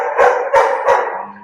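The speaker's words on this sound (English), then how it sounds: "did anybody hear the dog barking over here?" A dog barks three times in quick succession, close and loud, then falls quiet.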